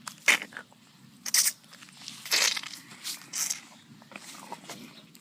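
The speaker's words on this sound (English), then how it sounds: "Spot manages to get under the Ankylosaurus armor, chewing on him, eating his stomach." Dinosaur chewing into an Ankylosaurus and eating its stomach makes wet crunching bites and tearing bursts in irregular clusters, close and fairly loud.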